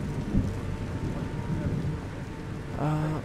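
Steady rain pours with a low rolling thunder rumble through a Skyrim Special Edition thunderstorm, then a brief brighter chiming layer near the end, with no clear talk.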